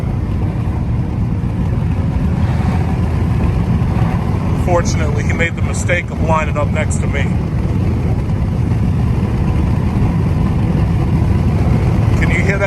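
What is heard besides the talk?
Nissan Versa with fart can exhaust, engine buzz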